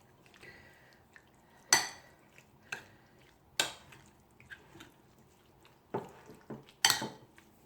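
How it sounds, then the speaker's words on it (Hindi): Chicken marinade with salt and spices is mixed in a bowl: a handful of sharp clinks of utensil against the bowl, spaced irregularly, with faint wet squishing between them. "इसको अब करूँगी मैरिनेट अच्छी तरह से मिक्स करके।"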